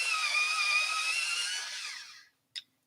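Coloured pencils are sharpened in a sharpener, a high grinding whir lasting about two seconds that winds down, followed by one short click.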